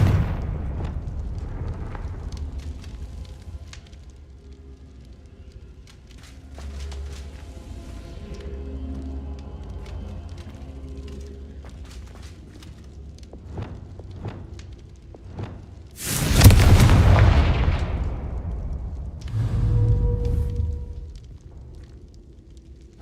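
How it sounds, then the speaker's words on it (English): A Confringo explosion spell from Hogwarts Legacy goes off, a loud booming burst that swells midway and fades over a rumbling background, with lighter thumps and game effects around it. "Confringo."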